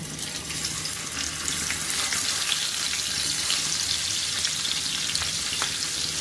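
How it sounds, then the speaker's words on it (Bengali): Rohu fish pieces frying one by one in hot mustard oil in a karahi, a loud continuous hissing sizzle with a few sharp spits and pops, nobody speaking. "তেলটা আমার গরম হয়ে গেছে, এতে এক এক করে আমি মাছগুলো ছেড়ে দেব"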